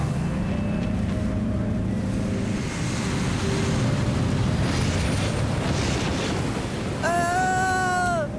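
Loud, steady roar of rushing wind and surging water, like a rough sea in a storm, with a rising whistle-like tone near the end.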